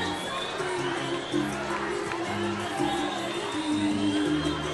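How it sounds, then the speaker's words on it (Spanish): A carnival awards crowd cheers and claps in welcome, a loud, continuous roar of voices and hands with shouts rising above a humming, tonal background. "Le damos un aplauso de bienvenida esta tarde de premiación."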